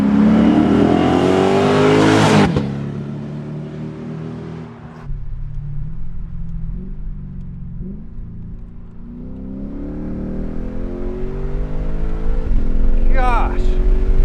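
A Lexus IS F with its muffler deleted roars loudly as it accelerates, with revs rising and falling through downshifts and an exhaust burble between pulls, while someone talks over the engine.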